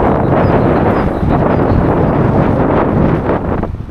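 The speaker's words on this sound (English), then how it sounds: "the wind's picking up again." Loud, continuous wind roars and buffets the microphone in an outdoor park, rumbling from start to finish with only a slight easing near the end.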